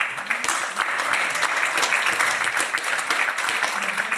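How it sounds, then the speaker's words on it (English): Sustained audience applause at a live podcast fundraiser event, dense steady clapping filling the room for several seconds without letting up. "So a big round of applause for everybody."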